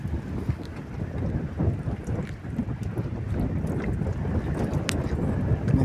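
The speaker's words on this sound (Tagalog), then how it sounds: "naghahangin na sa laot." Wind blowing across open sea around a small fishing boat on a squid trip, a steady rushing buffet with low rumbling gusts against the microphone, continuous and fairly loud, with no voices.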